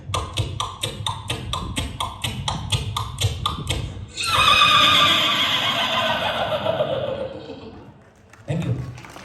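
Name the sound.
comedian imitating a horse neighing and galloping hooves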